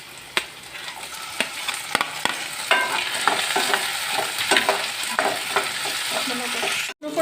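Pork fries in a pan with ginger and tomatoes added, producing a steady close sizzle punctuated by sharp clacks and scrapes of a utensil against the pan, with a brief dropout near the end.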